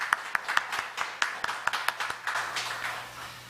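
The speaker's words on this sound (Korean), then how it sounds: "하나님께 영광의 박수 올려드립니다" Scattered applause from a congregation at a Sunday morning church service, sharp individual claps at an uneven rhythm with a faint hum beneath, thinning out after a few seconds.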